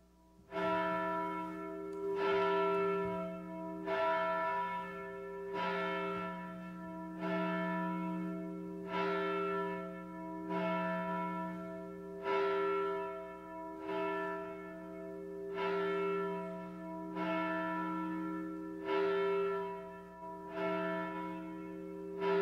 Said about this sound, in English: The bell calls us to worship as we gather in God's name.